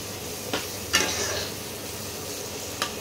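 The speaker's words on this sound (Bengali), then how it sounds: "সেই জলটা দিয়ে মশলাটা কষাচ্ছি।" Masala sautéed with water in a pan, a steady soft sizzle under a few distinct scraping stirs of a spoon against the pan, close and moderately loud with no talk.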